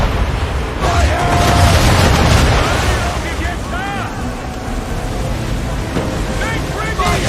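Ship cannons fire on a sailing warship in Assassin's Creed III, dull booms sunk beneath a constant roar of wind, waves and open ocean, with shouted voices over the din.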